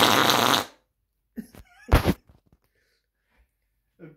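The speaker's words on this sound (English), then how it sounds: "You farted. Yep, I farted." A fart sounds once, loud and close, as a broad burst of noise lasting about half a second, followed by quiet and a few short human vocal sounds.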